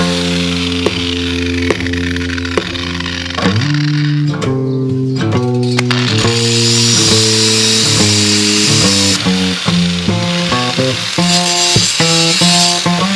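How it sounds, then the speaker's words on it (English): An angle grinder cuts into an old steel gas bottle with a loud, continuous high whine whose pitch dips and recovers under load. A hissing cutting rasp builds partway through. "I'm going to tear straight into it with the angle grinder"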